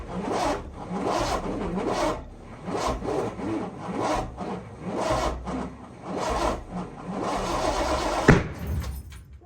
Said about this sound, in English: That was a backfire.